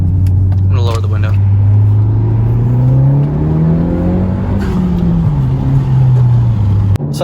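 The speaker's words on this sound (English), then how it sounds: "I'll do a pull onto the street. I'll do like a second gear pull." A car pulls hard in second gear onto a street. A loud engine drone rises steadily in pitch with a smooth climb, dips and lifts again, then cuts off with a sharp click near the end.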